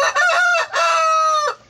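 A rooster crows loudly and close by, one drawn-out call in broken segments with no other sounds around it.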